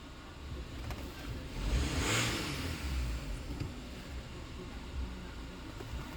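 An Audi A4 engine idles steadily after being started, a low continuous hum with a slight swell early on, fairly quiet and with no voices.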